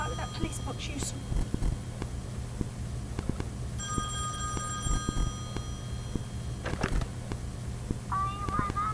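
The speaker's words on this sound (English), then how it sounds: "it can make phones ring, it can." An old telephone rings in a Doctor Who scene, sounding a few high shrill trills over a quiet background with faint clicks and scattered noises, and voices are heard briefly.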